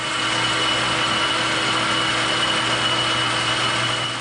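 A belt-driven lathe with a leather belt turns down a steel axle for a 50-ton railroad jack, taking light passes. It gives off a steady, close mechanical hum with a faint whine and no pauses.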